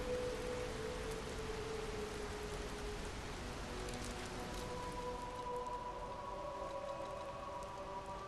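Steady rain pours throughout in the game Lies of P, a dense even hiss of drops with faint tonal ambience drifting underneath; no voices.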